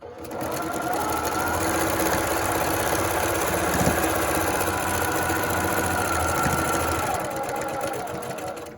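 A sewing machine stitches quilt pieces and backstitches them in one steady, close, loud run of rapid mechanical whirring and needle clatter with no pauses.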